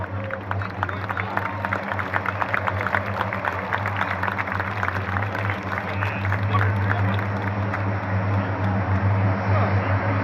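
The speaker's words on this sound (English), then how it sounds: "the Blue Angels C-130 Fat Albert" The Blue Angels C-130 'Fat Albert' propeller transport flies past at an air show at Seymour Johnson Air Force Base, a steady, loud, droning engine and propeller roar throughout, with faint voices underneath.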